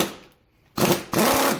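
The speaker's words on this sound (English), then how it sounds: "You probably shouldn't use an impact here, but it's quicker for me." Impact wrench loosening the bearing carrier screws on a Johnson Evinrude three-cylinder outboard lower gear case, with two loud, close, rattling bursts of hammering separated by a brief pause, and no voices.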